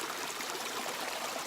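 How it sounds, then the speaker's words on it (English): Running stream water on the Appalachian Trail pours into a squeeze water bag being filled, a brief steady rushing splash heard close up with no other sounds. "I'm gonna stick this in the running water. I'm filling up this bag."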